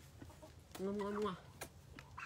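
A single chicken clucks once in a drawn-out call, close by, with faint background noise and a brief voice.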